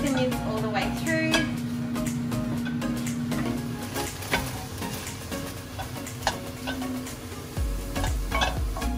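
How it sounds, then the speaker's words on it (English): Minced meat sizzling and frying in a pan while being stirred with a wooden spoon, with steady crackle, frequent scraping and tapping of the spoon, and a voice speaking over it. "So just making sure you cook the mince all the way through."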